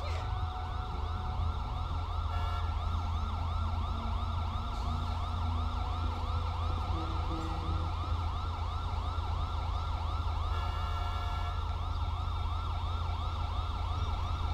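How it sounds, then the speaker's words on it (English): Many emergency sirens from the GTA 5 LSPDFR police game wail loudly and continuously, their overlapping rising and falling tones filling the whole stretch with no talking. "we got a lot of sirens going off."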